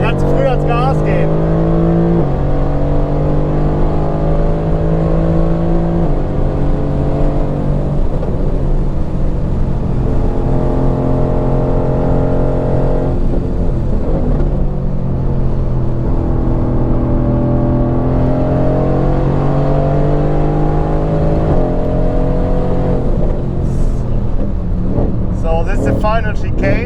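Mercedes-AMG GT-R race car at Spa-Francorchamps, its engine loud and close as it accelerates and climbs through rising and falling revs for nearly half a minute, with people speaking over it throughout.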